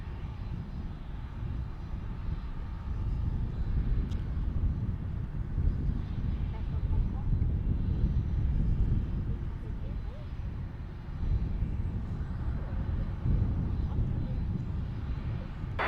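An airliner takes off from a runway at San Francisco International Airport, its loud, steady jet roar rumbling throughout while people talk nearby.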